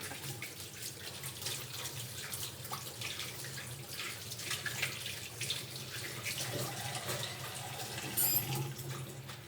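Hands being washed under a running tap before a nasogastric tube is placed, a steady close stream of water splashing and rubbing for several seconds with no talking.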